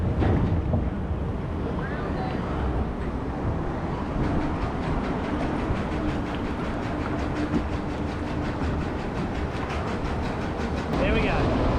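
Wind roars steadily over a handheld GoPro at the very front of a theme park boat ride at Pleasurewood Hills, a dense, constant buffeting rush with churning water beneath that holds at full loudness the whole time.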